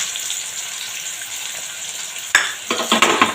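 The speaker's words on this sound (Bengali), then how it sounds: "এই পেঁয়াজটা বেশ ভাজা ভাজা হবে" Onions fry in a hot pan with a steady, even sizzle, then louder bursts of stirring and clattering cookware toward the end.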